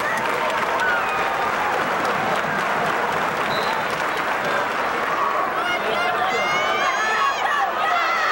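Loud, dense crowd noise fills a wrestling match from start to finish, a steady roar of cheering and applause with rising whistles and shouts near the end.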